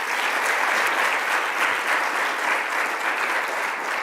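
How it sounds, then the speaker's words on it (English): Steady applause from an audience at a speech by New York Governor Kathy Hochul fills the whole stretch, dense and even without pause, with no talking over it. "so let's give them a round of applause."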